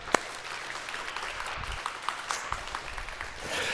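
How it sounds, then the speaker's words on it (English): An audience in a church service gives a short round of applause, light scattered clapping under a roomy ambience for a few seconds. "So let's give these guys a little round of applause for that."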